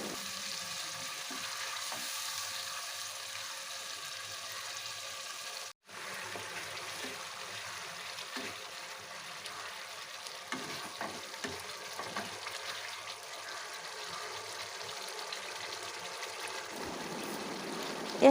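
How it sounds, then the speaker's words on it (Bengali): Tomato cooked down with a ground paste of coriander, cumin and garam masala, frying in a pan for a vegetarian dhokar dalna while it is stirred, giving a steady close sizzle with scraping strokes and one brief drop near the middle. "টমেটোটা কষানো হয়ে গেছে, এর মধ্যে দিলাম ধনে, জিরে, গরম মশলা বাটার যে পেস্ট রেডি করেছিলাম সেইটা।"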